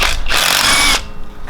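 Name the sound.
ratchet loosening Jeep Rubicon diff cover bolts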